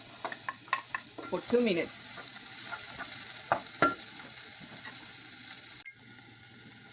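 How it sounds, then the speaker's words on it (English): Onion frying in a spoonful of coconut oil in a pan, a steady broadband sizzle throughout with scraping stir strokes early on, fairly close and moderate in level, until it cuts off near the end. "We're gonna add the oil and fry the onion"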